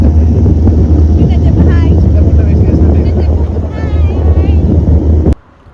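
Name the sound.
tourist boat moving on the sea at Pondicherry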